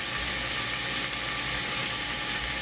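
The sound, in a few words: cut onion frying slowly in pot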